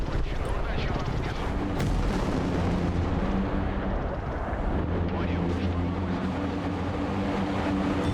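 Bombardment in a military video game, with dense continuous rumbling explosions and gunfire-like cracks layered over a low droning hum, loud throughout.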